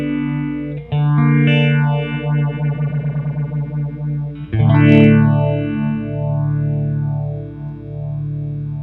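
An electric guitar plays through a Soundblox effects pedal while the speed knob is turned, its distorted, chorus-like tone sweeping and pulsing faster and slower, loud and close with no talking.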